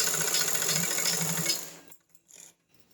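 A sewing machine stitches steadily at speed in a fast, even whirring run for about a second and a half, then stops, followed by a short second burst after a pause.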